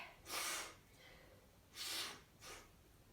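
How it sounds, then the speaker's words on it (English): Audible breaths during a beginner yoga crescent pose, heard as three loud, airy exhalations close to the microphone with gaps between them and no talking. "you can hear me breathing away"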